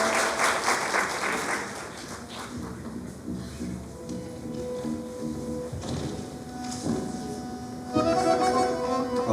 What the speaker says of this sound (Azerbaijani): Gəlin onu alqışlarla qarşılayaq.